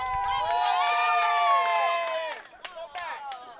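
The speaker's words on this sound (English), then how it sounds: "again, the crowd having a little bit of fun" A crowd at an indoor football game between the Cleveland Cobras and Mahoning Valley Federals cheers loudly and steadily for a couple of seconds, with whoops and shouts, then tapers into scattered voices and claps.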